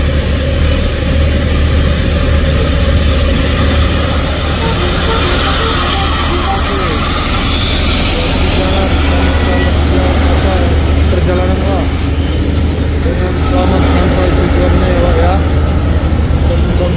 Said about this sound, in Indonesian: Satu unit truk Isuzu sepertinya mau mengambil jalur kanan bosku untuk memudahkan menanjak.